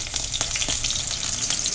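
Eggplant frying in a pan: steady sizzle with crackling pops, close and continuous, oil hissing loudly throughout.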